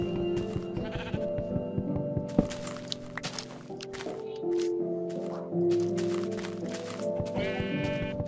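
Minecraft sheep bleat several times over game music and footstep clicks, the short bleats fairly close and moderately loud, with no talk over them.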